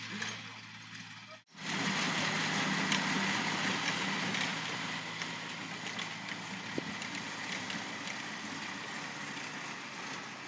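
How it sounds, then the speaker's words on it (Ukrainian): A recently repaired, technically faulty Japanese tractor engine under test kicks in abruptly after a brief pause, then runs as a steady, loud mechanical drone with a rattling texture. No one talks. "Тестуємо тракторець."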